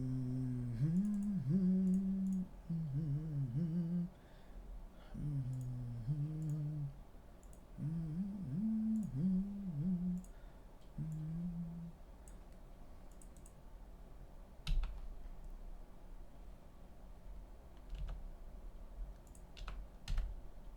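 Computer keyboard being typed on, with quick clicks in short bursts and sparse isolated keystrokes; a warbling tonal hum runs over the first half, then only scattered clicks continue.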